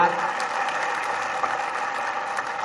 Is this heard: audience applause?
yes